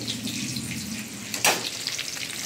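Hot oil splattering in a home kitchen pan: a steady close sizzle and crackle with a sharper pop and splash in the middle, no voices.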